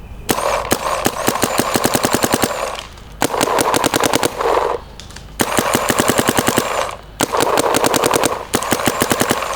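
Dye DSR Pro and Planet Eclipse Gtek 180R paintball markers fire outdoors in rapid bursts of sharp, loud pops, several strings of quick shots separated by short pauses, with no talking.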